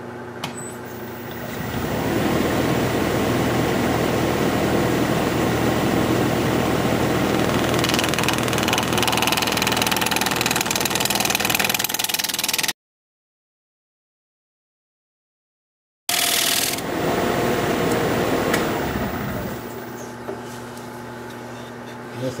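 A wood lathe spinning at 1200 RPM while a 5/8 inch bowl gouge cuts a bowl: a loud, continuous broadband roar and hiss of cutting that breaks off into a brief silence, then resumes and winds down.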